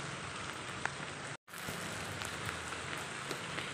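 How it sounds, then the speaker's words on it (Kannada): Heavy rain pours down at night in a steady, dense, close hiss of drops hitting surfaces. The sound continues without pause except for a momentary dropout. "ಎಷ್ಟು ಜೋರು ಮಳೆ."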